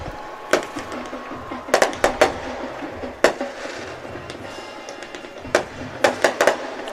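Fireworks bursting over a high school football game against Oak Glen, with sharp cracks and bangs arriving in irregular clusters, some doubled or tripled, against a steady crowd-and-field background.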